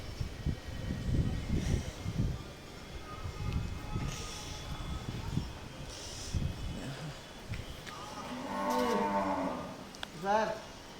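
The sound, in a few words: cow mooing at Mayapur goshala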